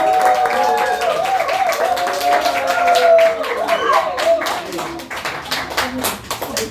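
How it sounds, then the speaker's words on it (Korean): Applause and clapping from a workshop audience welcoming a lecturer onto the stage, steady and fairly loud throughout with some voices and a whistle-like tone mixed in. "박수!"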